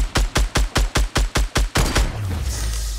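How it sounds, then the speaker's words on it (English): Rockets fired in Fortnite: eight rapid, evenly spaced launches in a loud burst, then a heavier blast that trails off into a low rumble and hiss. "Let's keep shooting rockets"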